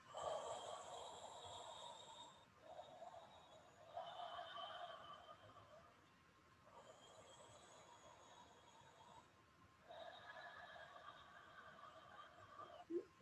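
A person in a breathing class does ujjayi breathing with the mouth open, drawing long raspy breaths through a narrowed throat. Several slow, close in-and-out breaths come one after another with short pauses between them.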